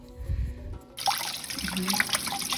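Water from a tap runs and splashes into a sink while a leaf is rinsed off, a close, steady trickling hiss that begins abruptly after a brief quieter stretch.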